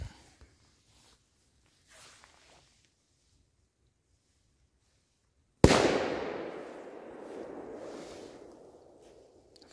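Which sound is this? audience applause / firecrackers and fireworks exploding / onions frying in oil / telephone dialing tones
firecrackers and fireworks exploding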